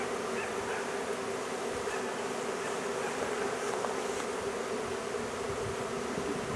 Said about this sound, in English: I still got bees going up here now.